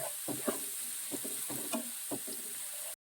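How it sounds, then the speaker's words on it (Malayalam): Prawn biryani masala sautéing in a pan: a steady sizzle of frying with repeated scrapes and clinks of stirring, close and continuous, no voices. "ഇനി ഇതൊന്ന് നന്നായിട്ടൊന്ന് വഴങ്ങണം നല്ല ഗോൾഡൻ ബ്രൗൺ കളറായിട്ട് ശേഷമേ നമ്മൾ സവോള ചേർക്കാവുള്ളൂ"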